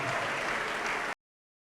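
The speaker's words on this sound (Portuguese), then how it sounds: "Continua aplaudindo e glorificando." Applause from a church congregation fills the space with steady, dense clapping that holds for about a second, then cuts off abruptly into silence.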